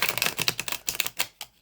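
A linen-finish tarot deck of about 330 GSM cardstock is shuffled close up, producing a quick run of crisp, papery riffling clicks that slow and trail off.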